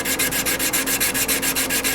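Cross-hatch sanding on a badly scratched camshaft, a close, steady back-and-forth rasping with about a dozen even strokes in two seconds, with no voices.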